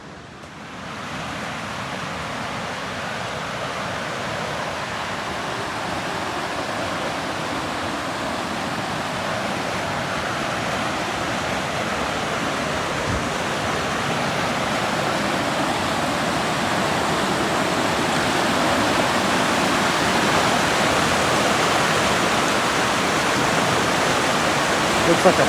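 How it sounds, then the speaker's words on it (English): River rapids on the Amicalola River, a steady broad rushing roar of whitewater that grows slightly louder as it goes on, with no other sounds over it. "Sounds like a pretty good rapid upstream of me here."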